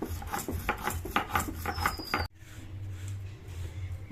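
Roasted spices ground to powder on a stone slab in a kitchen, heard as rhythmic, close scraping and rubbing strokes that stop abruptly and then give way to a quieter grinding texture.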